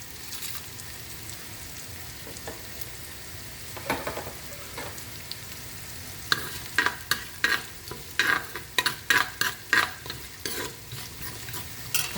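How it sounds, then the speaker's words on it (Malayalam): Whole spices crackle and sizzle in hot ghee for Kerala-style ghee rice. A low hiss comes first, then a run of sharp, close pops and stirring scrapes grows louder through the second half, with no voices. "ഞാൻ ഈ മസാലകൾ ആഡ് ചെയ്ത് കൊടുക്കണം."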